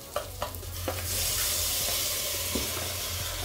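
Rice sautéing in a pot on a home stove: a few sharp clinks of stirring, then a steady, close sizzling hiss that swells and holds.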